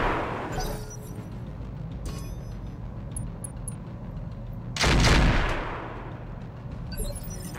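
Mech weapons firing in Roguetech, with caseless autocannon among the loadout: scattered crackling shots, then a loud heavy burst near the middle followed by continued rumbling battle noise.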